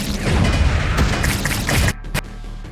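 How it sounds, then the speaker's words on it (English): Machine gun fire in the video game Wall World comes as a dense, booming rattle of rapid shots that cuts off abruptly, followed by a couple of short thumps. "The machine gun."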